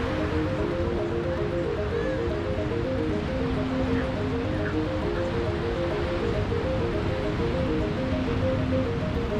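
Steady beach ambience at Batu Belig Beach in Seminyak, Bali, with a continuous wash of surf and wind filling the air and a faint tonal hum running underneath, no voices present.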